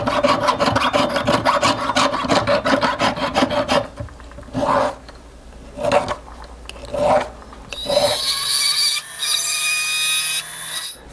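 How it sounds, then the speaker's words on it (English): Steady back-and-forth rasping of a saw or file on metal while shaping angel wing earrings, rapid rhythmic strokes for several seconds, then a few separate scrapes and a sharper, brighter grinding rub. "So I'm gonna saw this thing out closer and do some filing"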